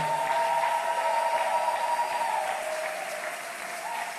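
A church congregation applauds steadily and loudly, a dense, even wash of clapping that holds for several seconds before easing off slightly.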